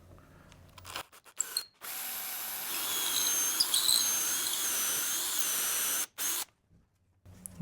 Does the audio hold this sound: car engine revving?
no